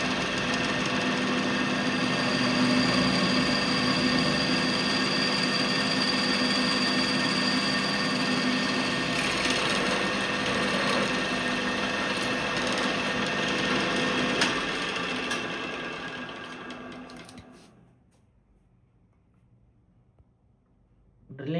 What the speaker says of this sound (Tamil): இதை வச்சு பார்க்கலாம் எப்படி ட்ரில் ஆகுதுன்றது.